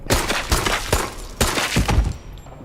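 Shotgun fired at a giant monster in a video game: several loud, sharp blasts spaced roughly half a second apart, close and heavy, each with a short decaying tail.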